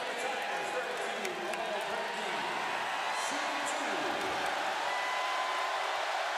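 A college basketball arena crowd cheering and applauding during a Clemson–Virginia Tech game in Blacksburg, a steady wash of roaring voices and claps with a commentator talking over it.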